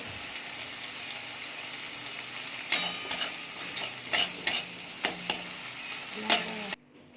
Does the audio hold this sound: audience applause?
no